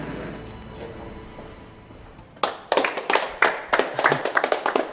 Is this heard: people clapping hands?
yes